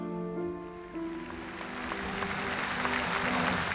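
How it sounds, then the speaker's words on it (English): Crowd applause outside Westminster Abbey at Princess Diana's funeral, a broad, distant wash of clapping that swells gradually, with sustained tonal sound, likely music or organ, fading beneath it early on. "The applause, which erupted outside Westminster Abbey and quickly spread inside"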